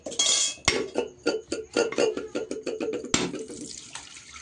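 Kitchen washing with water splashing while dishes and pots clink and clatter, in a series of close, irregular bursts with a sharp knock partway through and quieter sloshing toward the end; nobody speaks.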